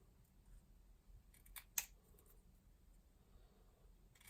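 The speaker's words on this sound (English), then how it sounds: "I'm just gonna cut it down" Scissors snip through heat-embossed cardstock for a stamping craft, producing a few faint, quiet crisp cuts clustered near the middle against a soft background hiss.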